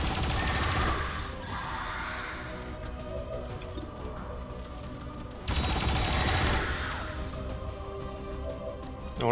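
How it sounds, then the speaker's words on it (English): Turret gunfire in XCOM 2 rattles in two heavy bursts of rapid automatic shots with crashing impacts, the second burst starting suddenly after a quieter stretch. "first let's use the turrets"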